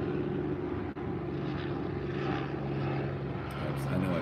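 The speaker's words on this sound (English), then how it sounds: "there goes a helicopter" A helicopter flies overhead as a steady, loud droning rumble that fills the clip, with a person talking over it.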